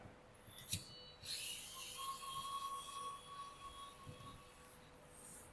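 A tight hex screw is turned out of a Double Bell 796-1 AM.45 airsoft pistol, giving a faint, steady grinding rasp that lasts for several seconds. No one speaks.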